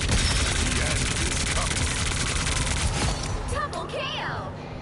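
Rapid gunfire crackles from a Marvel Rivals hero, with dense automatic bursts and game effects sounding loud and continuous, and a voice speaking over the action toward the end.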